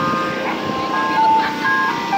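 Ice cream truck, a Nissan van, loudly playing its jingle as a thin melodic chime tune over a steady street background, with no one talking.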